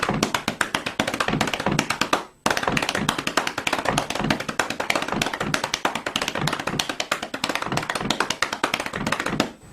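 Rapid hand tapping in a steady right-left triplet pattern, played as an air drumming beat, with dense even taps running continuously apart from one brief pause and no talking.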